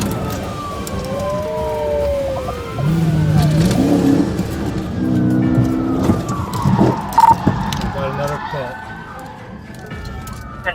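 A car accelerates during a police chase near the I-75 involving PIT maneuvers, its engine rising steadily, with wailing sirens and radio chatter mixed in and a voice talking over it.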